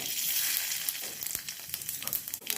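Bay leaf and whole cumin seeds sizzling in hot oil in a kadai, a fairly faint continuous hiss with small pops and crackles, no voices.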